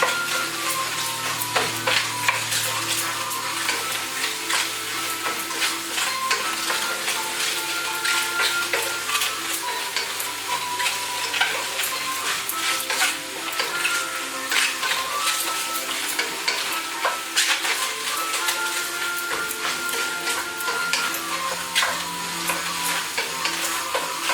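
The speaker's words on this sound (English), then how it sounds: "And since it's gonna take about 6 to 8 minutes to cook, you want to start stirring. Keep your flame on high." Jamaican jerk shrimp fry in a pan over a high flame, giving a loud, steady sizzle that runs throughout, with constant stirring scrapes and clatter close by.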